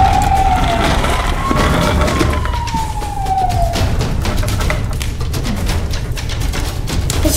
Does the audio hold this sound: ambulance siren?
yes